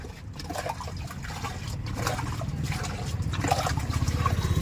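Water is scooped and poured out by hand while bailing a deep water-filled pit, giving steady splashing and trickling that builds slightly over the few seconds, close and continuous with no talk.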